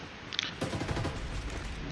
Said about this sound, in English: you can almost hear the gunfire